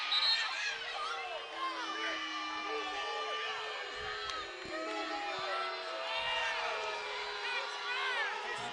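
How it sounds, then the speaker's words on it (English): Crowd of basketball fans from both teams at a Winthrop versus UNC Asheville game, a broad sustained roar of booing and shouting from a large arena audience, with whistles and sneaker squeaks poking through and no clear commentary. "Fans from both teams, I think, are booing."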